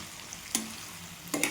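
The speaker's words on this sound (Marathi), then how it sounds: "अशा पद्धतीने मी छान तेलामध्ये याला परतून घेते" Jackfruit vegetable sautéing in oil, a soft steady sizzle broken by two brief stirring scrapes near the start and the end, with no talking.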